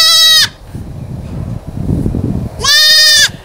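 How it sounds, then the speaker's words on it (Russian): A female down goat kid bleating, two loud, high, quavering bleats separated by a couple of seconds of rustling and low outdoor noise. "Это девочка пухового козленка."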